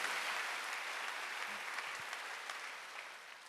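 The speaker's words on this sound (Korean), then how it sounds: "박수" A church congregation at a Wednesday worship service applauds, a soft, distant, even patter of many hands that slowly tapers away.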